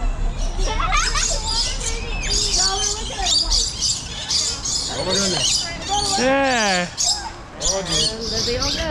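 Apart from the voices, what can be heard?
birds squawking and chirping at Busch Gardens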